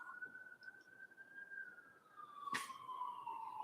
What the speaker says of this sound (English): as we hear now, oh my gosh, a siren